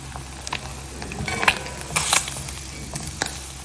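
Small nethili anchovy fish fry in a pan while being flipped over, with a soft continuous frying hiss broken by faint clicks and scraping clatters from turning them, close and quiet without any voices.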